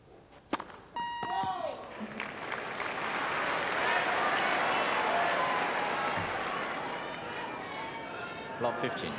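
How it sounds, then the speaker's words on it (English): A tennis crowd at a Henman versus Sampras match applauds a double fault, with sustained broadband clapping swelling for several seconds at moderate distance, preceded and followed by a few sharp court sounds and beeps. "one doesn't like to see double faults applauded."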